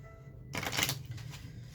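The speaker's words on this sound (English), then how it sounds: "You shuffle the rest of the cards." A deck of playing cards being shuffled for a card game, a brisk riffling burst about half a second long that trails off into softer rustling, close and fairly quiet.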